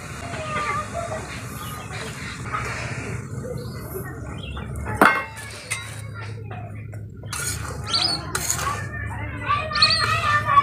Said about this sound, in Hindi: अब हम सूजी डाल के भूज लेते हैं।